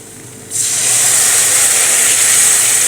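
Lentil stock is poured onto sautéed spices in a hot pan, setting off a sudden loud, steady sizzle that carries on without pause.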